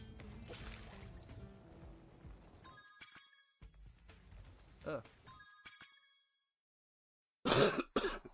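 A person clears their throat and coughs during a Spyro 3 PS4 game stream, ending in a loud, rough, close burst of coughing after quieter background sounds.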